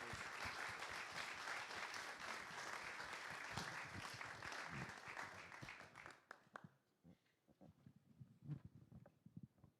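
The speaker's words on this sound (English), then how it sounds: "can we just give a round of applause for Michael?" An audience at an evening talk with climate scientist Michael E. Mann breaks into loud, dense applause for about six seconds, then it thins to scattered claps and fades out.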